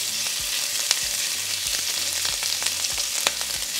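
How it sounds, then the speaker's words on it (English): Pieces of beef for a carne guisada sear in hot oil in a pan, giving a steady close sizzle with scattered sharp crackles and pops throughout, no voices. "we're just going to sear it for a couple minutes per side"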